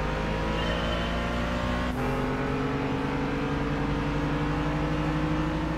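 Race cars in Gran Turismo 5 on PS3 roar steadily through a 300 km race, engine notes holding sustained tones that shift in pitch around a brief gear-change dip, loud and continuous with no voices.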